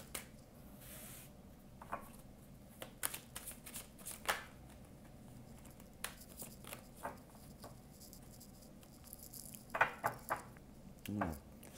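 Tarot cards shuffled by hand for a five-card reading, a loose pattern of soft riffling swishes and taps with brief pauses, close and fairly quiet, no voices.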